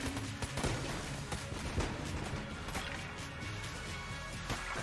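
Flak bullets fired from a gun in Enter the Gungeon, a dense burst of rapid shots and bursting impacts with mechanical clatter, loud and continuous across the short stretch.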